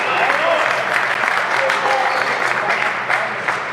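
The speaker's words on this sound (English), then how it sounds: "And there you see the applause" Spectators applaud after a long squash rally at the Namibian Open, a steady wash of clapping from a modest crowd, heard alone at even loudness.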